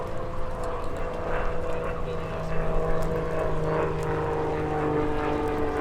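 An RAF Grob Tutor T.1 propeller trainer flies a display at an air show, its engine droning steadily with a rising and falling pitch as it maneuvers, moderately distant, under faint background noise.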